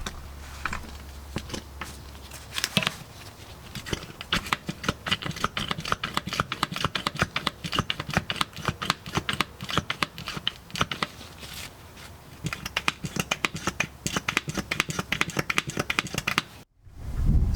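A hand pump pushes Red Line transmission fluid from a taped-on bottle into a Toyota Tacoma transmission, giving a close, steady run of rapid clicking and clacking strokes for about sixteen seconds that stops abruptly, with no talking.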